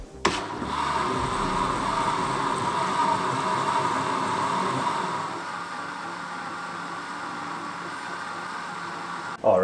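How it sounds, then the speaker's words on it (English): Blender running steadily while blending a sea moss shake with coconut pulp, coconut milk and coconut water, a loud continuous whirring drone that starts abruptly and cuts off near the end. "And now we're gonna blend it again."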